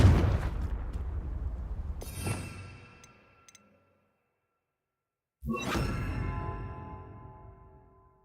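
Confringo fire spell blasts in the Hogwarts Legacy video game: two loud booming bursts with whooshing roar, the first fading over about three seconds, then silence, then a second sharp blast decaying slowly.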